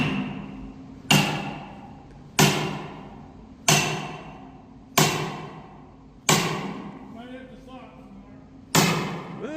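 A log, already cut with a chainsaw, is split in half by hand near a sawmill: six loud, sharp strikes land about every 1.3 seconds, each ringing off before the next.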